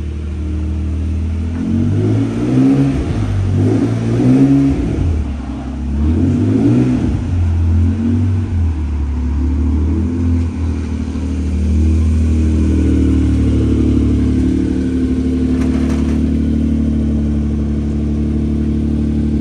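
A Honda NSX engine runs close by, revving and rising in pitch early on, then settling into a steady, loud idle-like drone.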